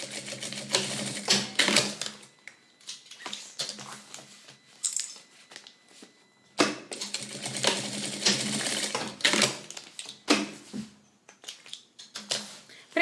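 Sewing machine stitching a strip of vinyl-backed lining fabric on a roll-style cosmetic pouch, running in several close, loud bursts of rapid mechanical chatter separated by short pauses.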